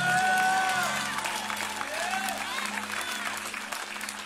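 A church service congregation keeps clapping hands amid cheering and voices, with music playing beneath, louder at first and then settling.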